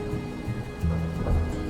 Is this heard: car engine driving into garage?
no